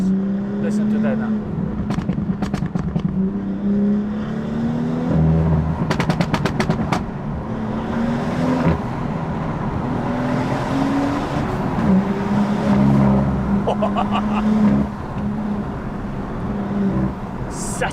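A tuned BMW M140i Stage 2 with rear-wheel drive and a manual gearbox drives hard, its engine droning steadily while sharp exhaust pops and bangs crackle in clusters, with someone talking over it.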